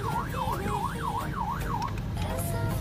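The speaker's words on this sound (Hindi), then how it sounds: "हाथ में सायरन आ गया है" A handheld siren wails in a rapid rising-and-falling sweep about five times, then cuts off, loud and close over a steady vehicle hum and road noise.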